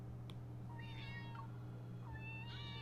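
Two drawn-out meows from a cat in the video game Love and Deepspace, spaced about a second apart, each sliding in pitch, set over a constant low electronic hum with a faint click at the start.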